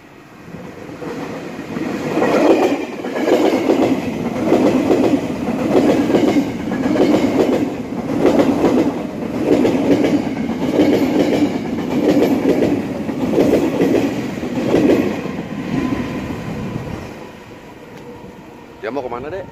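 A red and yellow KRL commuter train rolls past Cibitung station nearby, its wheels sounding a steady, repeated clickety-clack over rail joints before the sound drops off toward the end.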